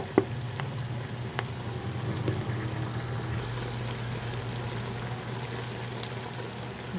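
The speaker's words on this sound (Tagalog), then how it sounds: "Gisa muna natin para mag brown." Sliced chicken, salted and rinsed, is sautéing in a pan until it browns for arroz caldo, making a steady, close sizzle and frying hiss with a few small clinks and no voices.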